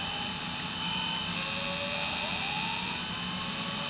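Fire alarms in a Roblox game ring on continuously, a steady high-pitched electronic tone with a wavering siren-like sweep layered over it, loud and unbroken for a few seconds.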